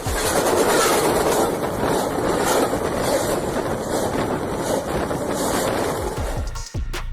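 A train rolls directly over a camera set underneath it, giving a loud, steady roar with rhythmic clickety-clack from the wheels, carrying on without a break before a sudden dropout near the end.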